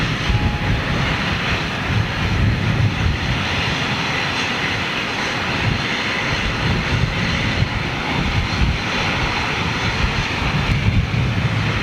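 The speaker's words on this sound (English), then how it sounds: "Doesn't it sound good? Those LEAP 1A engines sounded like little Gen X Trent type." Jet airliner powered by CFM LEAP-1A engines at Manchester Airport, a loud, sustained roar with a broad rumbling low end that holds steady throughout, no voices over it.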